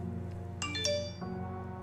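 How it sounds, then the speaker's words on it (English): A phone rings faintly during an emergency call, giving a couple of brief chiming tones over a low background hum. "Shut up, phone."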